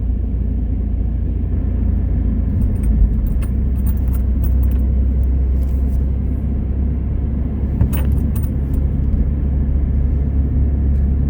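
A car driving along an eight-mile road through the South Dakota Badlands, heard from inside as a steady, loud low rumble of engine and tires with a few faint rattles and clicks above it.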